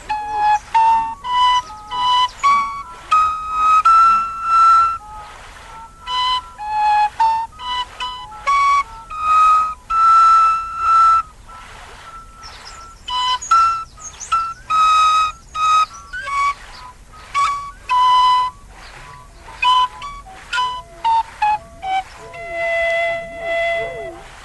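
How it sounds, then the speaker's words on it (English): A whistle plays the lively tune Hickory Dickory Dandelion Clock, a steady run of bright, clear notes in short bursts and phrases, loud and close, continuing for over twenty seconds. "took out his whistle. Ladies and gentlemen, mice, we will now play for you Hickory Dickory Dandelion Clock."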